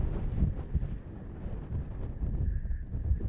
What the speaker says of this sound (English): it's starting to get pretty windy here